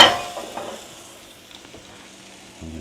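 Seasoned chicken frying in a pan on lower heat, a soft steady sizzle with a few light stirring and utensil clinks near the start, fading quieter with no talking.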